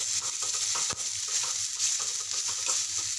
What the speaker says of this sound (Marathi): आता आपण ते एकजीव छान मस्त असं परतून घेणार आहोत